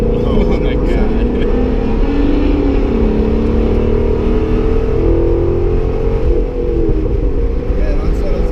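Chevrolet C6 Corvette Z06 on a race track, its engine droning loud and continuous from inside the cabin with shifting revs, rising and falling pitch, and voices talking over it.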